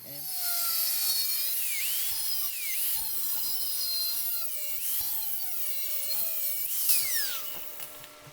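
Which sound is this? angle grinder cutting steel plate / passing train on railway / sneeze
angle grinder cutting steel plate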